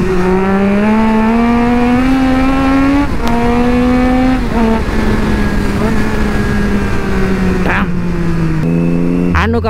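Triumph Street Triple 675 motorcycle engine on a ride, a loud steady drone with its pitch rising and easing as the throttle changes, wind rushing throughout, close and continuous.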